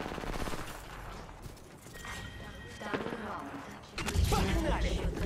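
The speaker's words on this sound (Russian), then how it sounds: "Стреляю." Rapid bursts of gunfire ring out in an online shooter match, with dense automatic fire and scattered shots continuing throughout and growing louder and busier toward the end.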